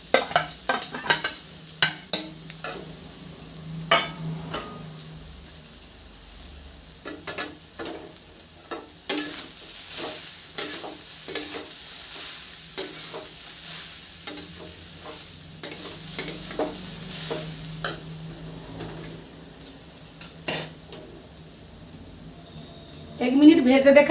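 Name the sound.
coconut frying in white oil in a wok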